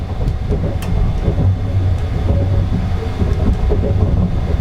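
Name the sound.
Sunrise Express sleeper train running quietly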